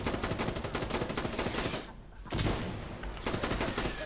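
Rapid automatic gunfire from a PC shooter video game after a switch of fire mode, loud, dense bursts that pause briefly midway and then resume.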